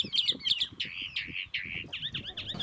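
Many birds calling over a large salt lagoon at Miramar de Ansenuza, Argentina: a busy overlapping chorus of chirps and squawks, fairly near and loud, with no voices.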